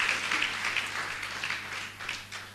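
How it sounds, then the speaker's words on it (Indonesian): An audience at a church gathering bursts into applause, a dense patter of many hands clapping at moderate distance for a couple of seconds, with no one speaking over it. "Yang mengerti saja dan setuju berikan tepuk tangan."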